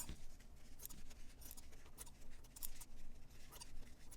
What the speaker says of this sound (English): Okay, we're ready for one final trim.